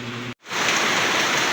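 Heavy rain pours in a dense, steady hiss after a brief moment of silence, loud and close with no voices.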